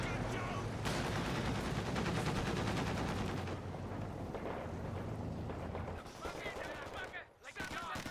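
An M15A1 halftrack firing in the video game Company of Heroes 2, dense rapid automatic gunfire and booming battle noise, loud and continuous for several seconds before briefly thinning out, with a commentator talking over parts of it.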